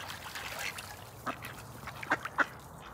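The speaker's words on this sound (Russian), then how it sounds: "Утки крякают опять же." Ducks quack outdoors near a mountain ski resort, a few short scattered calls rising over quiet ambient noise, with two or three sharper quacks close together near the end.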